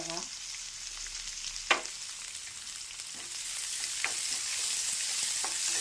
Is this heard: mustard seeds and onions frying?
yes